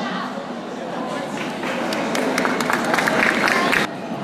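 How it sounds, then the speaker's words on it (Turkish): Audience applause in Cizre for the second-place individual winner of a jigsaw puzzle contest, a dense, even wash of clapping that swells slightly, then cuts off abruptly near the end. "Alkışlarınızla."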